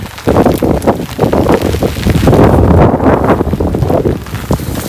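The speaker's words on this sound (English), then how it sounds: "Had to go around the corner where it wasn't so windy" Loud, steady wind buffets the microphone with constant roaring gusts on the Appalachian Trail, and a wash of rain hisses beneath it.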